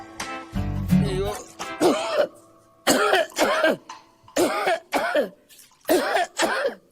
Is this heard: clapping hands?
no